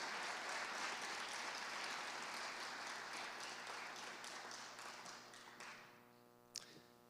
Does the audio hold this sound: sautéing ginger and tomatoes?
no